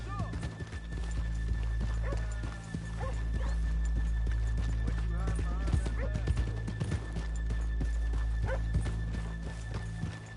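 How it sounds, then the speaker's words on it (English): Horse hooves clip-clop steadily in Red Dead Redemption 2, with a horse neighing now and then, heard under ongoing talk and a constant low game hum. "let's leave the horses here off the main drag"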